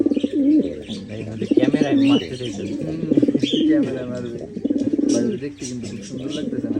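Pigeons coo in repeated throaty, rolling calls at a city pigeon farm, close and loud, with a few chirps mixed in and someone talking over them.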